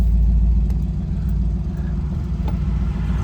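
A 1970 Dodge Challenger T/A on the road, its engine a loud, steady low rumble close by with a slight swell, cabin-like and without talk.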